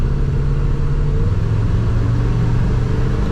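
A 1950 Oldsmobile Futuramic Club Coupe street rod with side-exit pipes rumbles steadily at close range, a deep, continuous engine note that is moderately loud rather than harsh.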